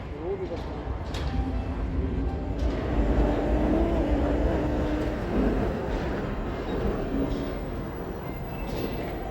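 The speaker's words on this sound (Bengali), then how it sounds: "সামনে বাঁ দিকের ট্রামটিকে লক্ষ্য করে দেখুন" A tram rumbles past nearby, a low rolling drone with metallic squeals and clatter, swelling in the middle and then easing off.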